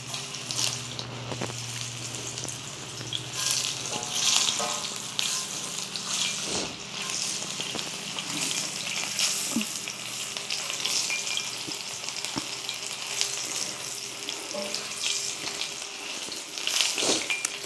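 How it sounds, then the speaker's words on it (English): Cheesy mashed potato balls fry in shallow oil in a pan that is being seasoned, giving a steady, dense hiss and crackle throughout with a few light clinks, close by and with no talk. "Chose to deep fry, or not deep fry, but fry in this pan"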